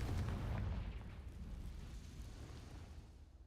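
A Confringo spell in Hogwarts Legacy bursts into a deep, rumbling explosion that hits loud at the start and then decays into a lingering low roar, with no talking.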